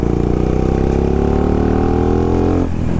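A 20-horsepower dirt bike on a trail ride pulls hard in second gear, its engine note climbing steadily in a loud, close, rising drone before easing off abruptly at the end.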